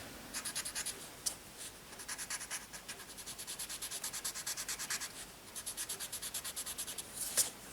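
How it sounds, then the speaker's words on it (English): White charcoal rubbed on gray paper in quick, rhythmic back-and-forth strokes, a close, dry, scratchy rasp with brief pauses and no talking. "You can use the white charcoal just like that on the paper."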